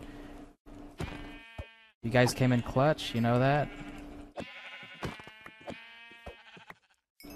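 Minecraft sheep bleat several times in a video game, wavering tonal cries coming in short bursts, with a player talking over and between them.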